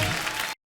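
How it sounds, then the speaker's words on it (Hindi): A studio audience at a Hindi comedy show breaks into a short, dense burst of clapping that cuts off abruptly after about half a second. "ठोको ताली"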